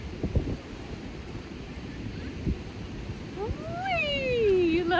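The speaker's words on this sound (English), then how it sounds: "The wind is blowing the swing." Steady wind blowing across a beach, a broad rushing roar with gusty buffeting against the microphone, joined near the end by a rising and falling high-pitched child's squeal.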